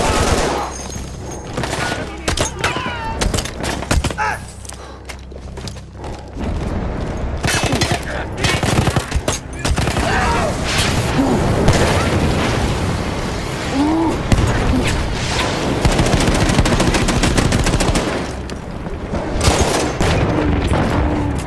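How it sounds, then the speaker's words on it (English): Battlefield 1 combat: heavy explosions and sustained fusillades of gunfire roll through, loud and dense, with occasional battlefield shouts mixed in among the blasts. "That explosion was one of the sweetest"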